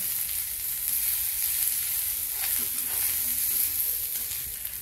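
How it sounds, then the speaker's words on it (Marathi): Tomatoes sautéing in a little oil in a pan while chhole bhaji is being cooked, giving a steady, soft sizzle and crackle with faint stirring scrapes, with no one talking. "थोडंसं तेल घालू त्यात आणि परतून घेऊ।"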